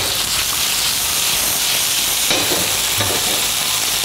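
Fish with parsley and thyme browning in butter in a pan, a loud steady close sizzle with hissing frying and occasional stirring, no voices.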